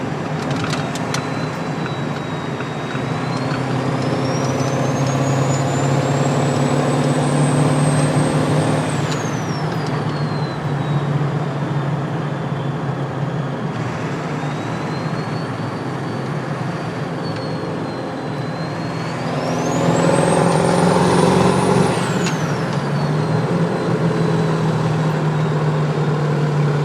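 Ford Powerstroke diesel truck with a polished turbo housing drives along under a steady engine drone, its turbo whistle rising high and holding, dropping off, then spooling up again.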